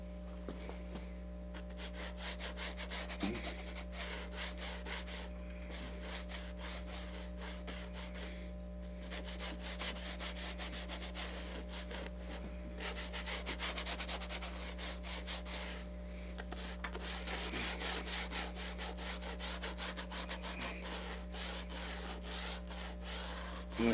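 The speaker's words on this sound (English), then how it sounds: "Now let's get painting on this shell." A brush rubs and scrapes steadily over the ridged shell of a painted leatherback sea turtle figure, quiet, close and continuous against a low constant hum.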